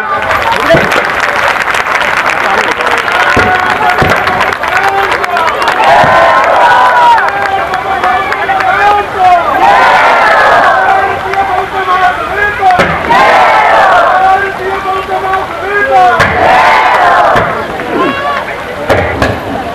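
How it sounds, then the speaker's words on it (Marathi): An audience at a public speech applauds at length, loud and sustained, with clapping mixed with crowd voices and calls. "सगळ्यांनी टाळ्या वाजवा"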